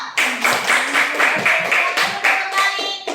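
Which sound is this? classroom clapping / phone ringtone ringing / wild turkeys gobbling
classroom clapping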